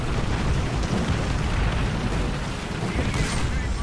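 An artillery strike in War Thunder lands around a Panzer III E tank as a dense, sustained roar of explosive rumble, loud and close throughout with no gaps.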